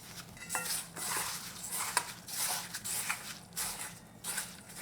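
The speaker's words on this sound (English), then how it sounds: "So use your wooden spoon first, or just mixing" A wooden spoon stirring a sticky honey dough for Korean pressed dasik cookies in a bowl, giving soft, irregular scraping and knocking sounds, quiet and close, with no talking.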